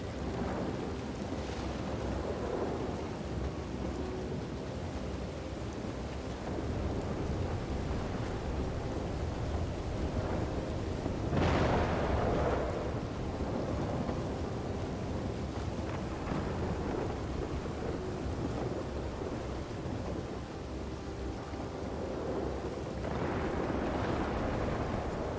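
In an Old West video game, heavy rain pours continuously while low thunder rumbles roll in and out, swelling loudly a few times over the long stretch.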